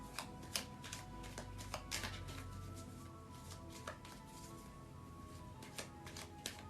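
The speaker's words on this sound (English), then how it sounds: "so what I'm going to do, Kenneth, I'm going to first shuffle the cards" Tarot cards being shuffled by hand at a close, quiet tabletop, a run of soft papery riffles and taps with sharper clicks scattered through, no voices.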